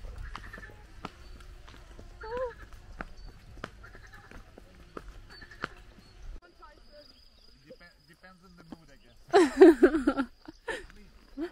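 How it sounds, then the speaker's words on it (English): A horse walks on a riding trail in Ijevan, its hooves giving sparse, distinct clip-clop knocks, followed near the end by a louder burst of human voices. "The horse is behaving normal now."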